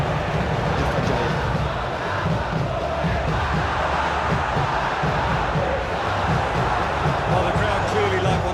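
A stadium crowd cheers steadily through a PES 2025 football video game match between Bali United and Persib Bandung, a dense continuous roar with no clear pauses.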